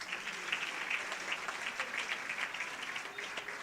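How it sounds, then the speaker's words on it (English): Audience clapping for a woman invited to give closing remarks and a vote of thanks at a women's fund unveiling, a steady moderate patter of many hands throughout. "Can we clap hands for her?"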